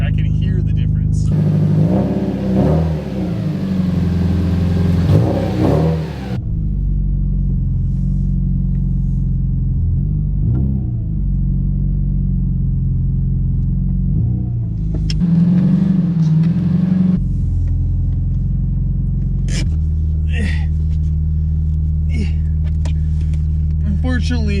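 A Subaru STi with sound deadening fitted starts from cold, its engine rumbling and revving in bursts before settling into a steady idle, heard close by with a person talking over parts of it.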